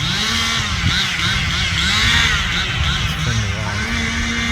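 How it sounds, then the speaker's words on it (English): A chainsaw cuts tree branches during neighborhood tree trimming, its engine droning steadily and fairly loud throughout with a slight rise and fall in pitch. "Chainsaw out."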